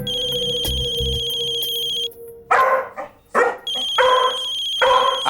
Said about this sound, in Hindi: हाँ पता है फोन बज रहा है।